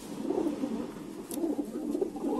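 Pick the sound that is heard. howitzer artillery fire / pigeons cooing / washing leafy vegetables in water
pigeons cooing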